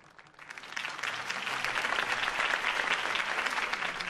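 Steady crowd applause swells and holds after a campaign speech in Batman: The Telltale Series, a dense wash of many hands clapping at close range with no talking over it.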